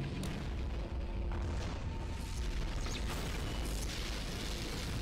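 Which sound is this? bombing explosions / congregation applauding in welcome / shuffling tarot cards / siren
bombing explosions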